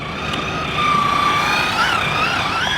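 A Maverick Quantum R Flux RC car on a 3S battery speeds up with a high electric motor whine that rises and shifts in pitch, close and loud, with no talking.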